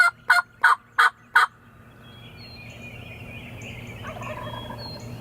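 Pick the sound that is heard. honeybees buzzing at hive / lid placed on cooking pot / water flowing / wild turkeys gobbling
wild turkeys gobbling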